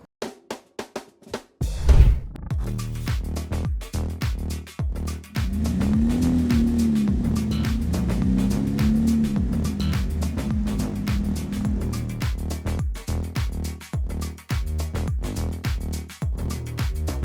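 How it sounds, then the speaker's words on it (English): A Porsche 911 991.2 GT3 RS with a louder exhaust, heard up close in Miami: a sharp start-up bark, then a loud, steady idle with rising and falling revs and crackling pops. "if you have a car with an engine that sounds good, it is your responsibility to make it louder"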